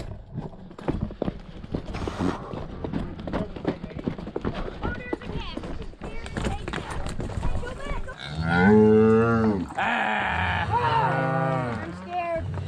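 Cattle, a calf among them, moo loudly and drawn out on a mountain trail, with hooves clattering and people talking and shouting over the busy herd.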